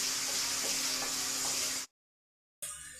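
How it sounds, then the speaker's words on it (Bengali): Shrimp frying in hot oil in a pan give a bright, steady sizzle close by, broken by a few soft stirring clicks, then a sudden cut to silence before a quieter sizzle resumes. "চিংড়ি মাছগুলো এবার ভাজা হয়ে গেছে"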